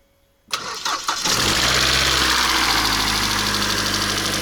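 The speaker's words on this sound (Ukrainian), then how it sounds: "Я включив зажигання." A car engine cranks a few times with a jump-starter booster, catches and settles into a steady loud idle, heard close up with no talking.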